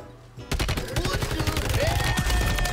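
Rapid bursts of battle rifle fire in a first-person shooter video game, loud and continuous with dense repeated shots and some impact sounds, with no talking over it.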